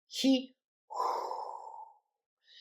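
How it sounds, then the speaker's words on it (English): A woman demonstrates an exhale breathing technique for pushing in labor: a short voiced breath, then a long steady breathy exhale lasting about a second, followed by another soft breath starting, close and quiet. "Another option is inhaling, and then on your exhale going"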